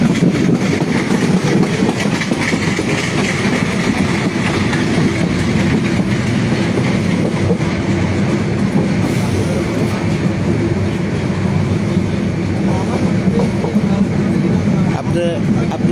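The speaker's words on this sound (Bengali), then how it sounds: "ট্রেনটি আস্তে আস্তে স্পিড বেড়ে গেল।" Inside a moving passenger train on a journey, a continuous loud rumble with rolling wheel clatter runs steadily throughout, with faint voices mixed underneath.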